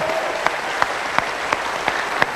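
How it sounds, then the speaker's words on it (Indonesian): A studio audience at a stage talk show claps together, a steady bed of applause punctuated by loud, evenly spaced claps that fall in a regular rhythm, close and prominent with no one speaking. "Kasih tepuk tangan dong Mas Anies."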